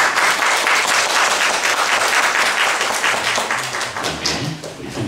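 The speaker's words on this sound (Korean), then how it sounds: "일어서서 우리 다 같이 박수 한번 해주시면 고맙겠습니다" An audience at a literary symposium of a provincial writers' association applauds together, with dense, even clapping that thins slightly toward the end.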